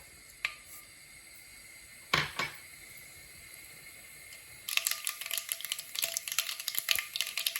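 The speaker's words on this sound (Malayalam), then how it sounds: "ഇപ്പത് നമ്മുടെ എണ്ണയൊക്കെ ചൂടായി വന്നിട്ടുണ്ട് നമുക്ക് കടുക് ഇട്ട് കൊടുക്കാം" A few faint clicks and a clatter in a quiet kitchen, then a dense burst of crackling and spitting as mustard seeds drop into hot oil.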